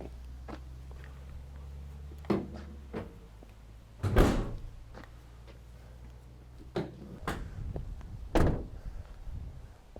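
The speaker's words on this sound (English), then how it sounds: "doors fold out for easier loading" The rear doors of a 2018 Ford Transit Custom van clunk and bang at irregular intervals, with a couple of heavier slams standing out over a low background hum.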